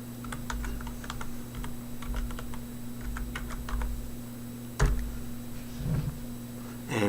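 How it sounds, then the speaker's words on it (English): Typing a web page address on a computer keyboard, a run of quick, light key clicks in irregular bursts over a steady low hum, with a louder thump partway through. "Now I'm going to go in and type the web page address here."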